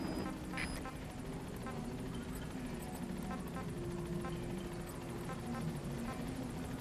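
A Metal Gear Solid V helicopter coming in to a landing zone, a steady low rotor drone with a faint high whine, held evenly throughout at modest volume.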